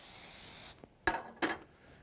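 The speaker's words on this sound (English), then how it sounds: "spray it with our pan coating" Pan coating sprayed into a warm sauté pan gives a steady, close hiss lasting under a second, followed by a couple of sharp kitchen clatters.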